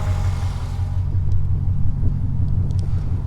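A 1990 Chevrolet Corvette ZR1 engine idles with a steady, deep low rumble, close and even throughout with no revving.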